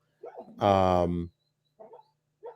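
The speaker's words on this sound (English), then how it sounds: "that's my other dog who's apparently having a bad dream" A dog in the background whines during a bad dream, giving one loud, drawn-out, tonal cry lasting under a second. Brief soft speech comes just before and after it.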